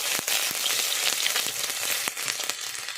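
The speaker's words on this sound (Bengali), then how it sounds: "রসুন কুচি, রসুনটাকে একটু ভালোভাবে ভেজে নেব।" Chopped garlic fries in hot oil for an aloo dum, a steady dense sizzle with crackling pops and a few sharp spits, close and continuous with no voices.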